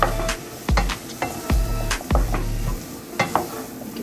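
Cubed raw banana frying in oil in a pan, a steady sizzle broken by several sharp clanks and scrapes of a spoon stirring against the pan, close and fairly loud.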